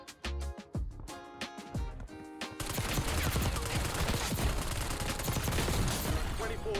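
Video game gunfight: a few sharp separate shots at first, then a dense continuous burst of rapid automatic gunfire that stays loud to the end.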